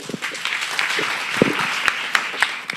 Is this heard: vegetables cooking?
no